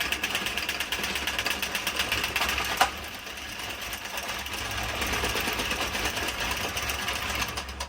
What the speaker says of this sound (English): now we're just going to continue to knit all the way off of the machine.